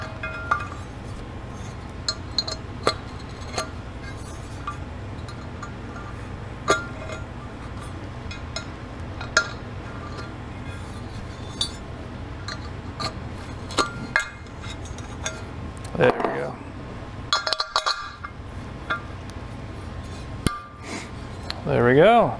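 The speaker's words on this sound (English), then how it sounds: "let's get in there and deburr it" Deburring tool scraping the edge of a drilled hole in a metal part for a custom RV trim bender, with scattered light scrapes and clinks over a steady workshop hum, ending in a few louder bursts.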